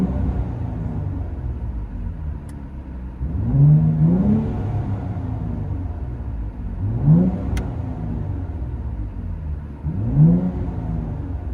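A straight-piped 2023 Nissan Z with a 3.0L twin-turbo engine is heard from inside the cabin, idling with a deep rumble. It revs three times, each a rising, droning swell of exhaust tone.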